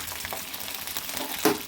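Onion, garlic and green chillies frying with flat beans in a pan give a steady, moderate sizzle, with a brief louder stir or clatter near the end and no voices.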